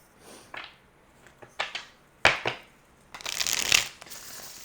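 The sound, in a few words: shuffling a Gilded Tarot card deck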